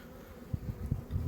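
Honeybees buzz on a hive frame with young bees chewing out of their cells, a soft close hum with a few brief louder pulses over 1.3 seconds.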